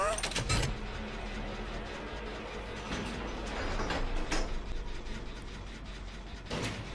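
In Dead by Daylight, an exit gate opens with a ratcheting, grinding mechanical whir that runs for several seconds, mixed with game ambience and brief player talk.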